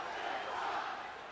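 Boston Red Sox fans chant the Boston cheer at Yankee Stadium, a sustained distant crowd roar of many voices in unison.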